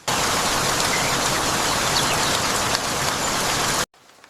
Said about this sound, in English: Morning rain lingers, mist hugging the trees.